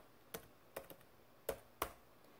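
Light typing on a computer keyboard: four soft, separate key clicks spaced out over a couple of seconds in a quiet room.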